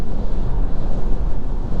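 Loud, steady wind buffets the microphone with a low rumbling roar of air rushing past a Kia EV6 electric car driving at speed in wind and rain; no clear rain and no voices.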